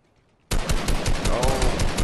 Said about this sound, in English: Shoot this wall right here.